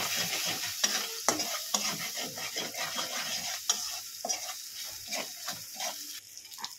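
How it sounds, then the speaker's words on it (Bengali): Spices with Kashmiri chilli powder, turmeric and salt being sautéed and stirred in a pan for a vegetarian Malabar spinach curry, a steady sizzle broken by repeated scraping strokes of a spoon, close and clear with no voices. "ভালো করে এটাকে কষিয়ে নেব।"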